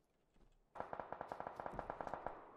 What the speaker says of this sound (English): Dude, shots everywhere.